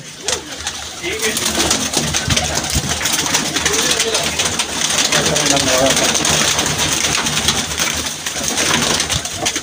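Blue-dyed pigeons coo at a large pigeon net enclosure in Dhrampura, soft repeated murmuring calls close by amid a constant rustle and patter, while someone talks over them.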